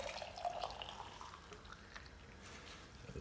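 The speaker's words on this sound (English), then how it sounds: "I'm going to put another pint of water" A pint of water trickles and pours into a pot of vegetable soup on the stove, a faint, steady liquid splash in a quiet kitchen with no talking.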